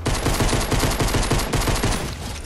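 Dense, continuous Fortnite gunfire: rapid overlapping shots rattle loud and close for the whole stretch, with no pauses between bursts.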